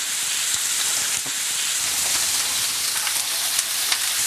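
Steaks sizzle hard in a hot pan, a loud dense hiss of frying fat with scattered pops and crackles, steady and close throughout with no one speaking.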